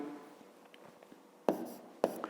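A pen scratches softly on paper while numbers are written down for a fifth-grade math exercise, faint strokes with two sharper taps standing out near the end.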